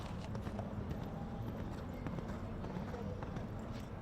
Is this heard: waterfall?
no